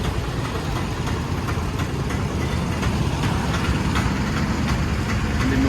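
TVS Raider motorcycle engine running at a steady, dense idle, close and even throughout, with faint ticking and no talk.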